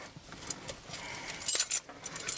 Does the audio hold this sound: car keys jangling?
yes